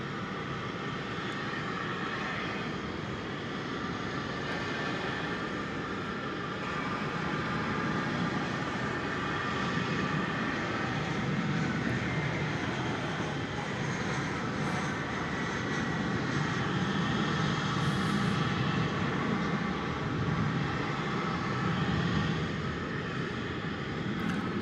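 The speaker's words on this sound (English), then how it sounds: "the Alaska plane is bound for Seattle" An Alaska Boeing 737-9 airliner at Dallas/Fort Worth airport, its jet engines producing a continuous broad roar that stays loud and steady throughout, with no talking.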